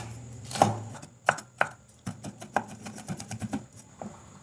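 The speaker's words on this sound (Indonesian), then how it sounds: "Ini cabenya aku potong-potong." Chili peppers are chopped with a knife for nasi goreng, with irregular sharp close-up chops, some isolated and others in quicker bursts, and no talking.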